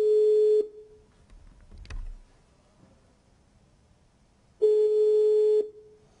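Telephone ringback tone heard while a call waits to be answered: two long buzzing tone bursts about four seconds apart, separated by near silence with a faint handling bump between them.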